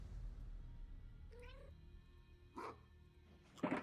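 Three short cat meows in the video game Minecraft, spaced apart and rising in pitch, the last one loudest, over a faint background hum.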